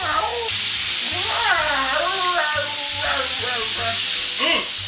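Pieces of hot chicken fry in a pan, a constant crackling sizzle running throughout while a cat meows and mews repeatedly over it nearby.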